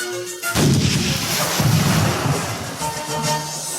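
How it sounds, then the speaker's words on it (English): Heavy cannonballs blast into water one after another, loud deep explosions booming with rumbling echoes filling the whole stretch. "The Nautilus shook from the explosions of the cannonballs in the water"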